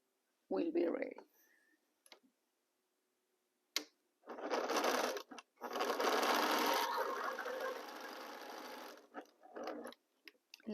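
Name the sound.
sewing machine joining quilt rows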